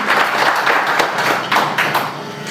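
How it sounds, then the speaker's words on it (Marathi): An audience applauding after a performance at an evening of Geet Ramayan melodies in Varanasi, dense continuous clapping from many hands throughout, close and loud. "चला टाळ्या वाजवूया, अप्रतिम सादरीकरण."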